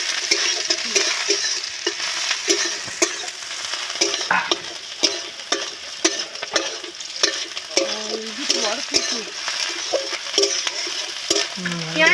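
Onions frying in a pan for a chicken offal curry, with loud sizzling broken by repeated scraping and knocking as a utensil stirs them, close up and with no voices.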